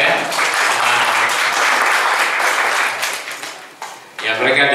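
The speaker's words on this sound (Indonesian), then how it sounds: "Beri tepuk tangan buat mereka ya." An audience at a church gathering breaks into lively applause, loud and steady, then dips briefly before a voice starts speaking over the tail end.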